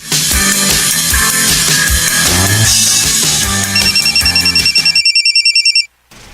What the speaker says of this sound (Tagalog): Kasaba bayaan ng imong cellphone Buning.